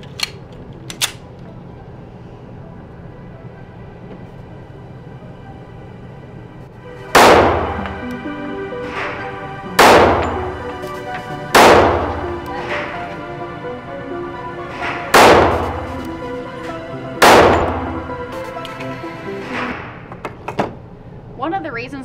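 A Springfield Range Officer 1911 pistol fires six loud single shots outdoors at a range, each a sharp crack with a ringing tail, spaced a few seconds apart after a quieter stretch.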